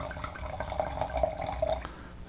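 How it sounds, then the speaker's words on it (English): Wine pours from a bottle into a glass, a small gurgling trickle that runs for about two seconds close up and fairly quiet, with no voices. "Get the handy bottle out and get me a fresh pour."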